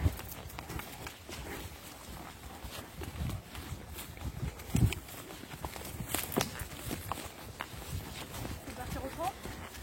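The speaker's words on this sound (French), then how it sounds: "on est parti au petit trot" Horses trotting on an outdoor riding trail, hooves clip-clopping as soft, uneven thuds with some louder steps, heard faintly under an instructor's talk.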